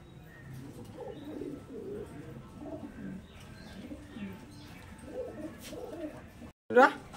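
Large Kaldom pigeons cooing in soft repeated murmuring phrases, close by, with someone talking over them and a sharp knock near the end.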